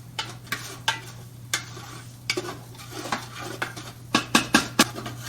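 Spices such as cumin and chili heat in a pan with vegetables, stirred with sharp scraping and clinking strokes over a faint sizzle and a low steady hum.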